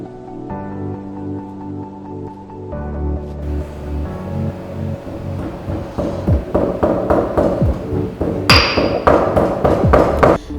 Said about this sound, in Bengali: তিনটে ছোট এলাচ ভালো করে গুঁড়ো করে নিচ্ছি।